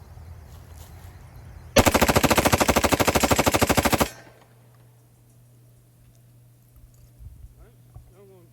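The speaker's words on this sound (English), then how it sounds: "We are shooting S&B 180 grain full metal jacket." A Banshee Mk-10 10mm with an FRT-15L3 forced-reset trigger fires S&B 180 grain full metal jacket rounds in one loud, rapid burst of roughly two seconds, fast evenly spaced shots, followed by quieter background noise.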